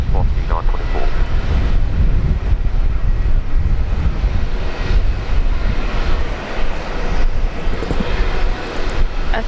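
A Virgin Australia jet takes off from runway 19 left at Brisbane Airport, a loud, steady engine roar that fills the whole stretch while a radio voice talks over it.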